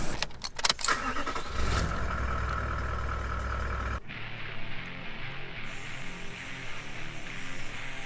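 A diesel four-wheel drive sets off from Birdsville: a loud engine rumble and movement noise open the run, then a steady low drone of the moving vehicle carries on, with no voices.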